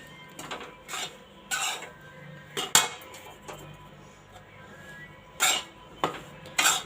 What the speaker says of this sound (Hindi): अब इसमें डालेंगे हम घी, क्योंकि आटा हमारा हो चुका है।